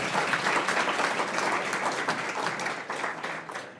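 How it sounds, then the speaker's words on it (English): An audience in a lecture hall applauds a staff member before a talk, a dense, even roar of many hands clapping that runs throughout and eases slightly toward the end. "I really want a big round of applause for Meg for all her work this year"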